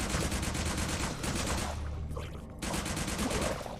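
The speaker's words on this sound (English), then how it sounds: "I feel like this submachine gun could have a little more oomph to it" A submachine gun fires in Retchid, a shooter game in the style of Doom 3. Dense, loud bursts of rapid automatic fire come close together, with a brief pause before the shooting starts again. Nobody speaks.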